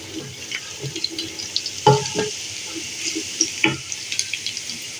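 Onions softening in a pan with cumin seeds added, giving a steady low sizzle with scattered crackles and a few sharper stirring clatters, close and moderately loud, with no one speaking.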